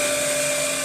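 A Mach 4 CNC machine making a dry cut gives off a steady, loud whine with one sustained tone that holds for the whole short stretch. No voices are heard.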